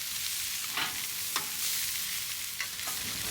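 Fried bologna sizzles on a griddle just after being flipped, a soft continuous hiss with a few scattered spatula scrapes and taps, nearby and fairly quiet, no voices.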